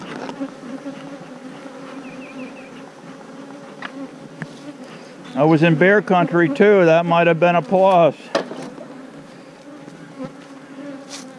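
Steady insect buzzing, like many bees droning together, runs under a voice that speaks loudly in the middle.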